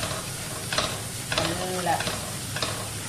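Onions fry in a pan with a steady sizzle while a spoon scrapes and stirs in a few distinct strokes, close up, for a tomato rice dish.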